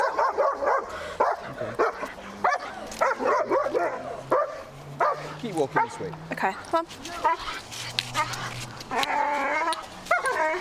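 A dog barks and whimpers during a training walk, short yips and whines recurring through the clip under a person's close, continuous coaching talk.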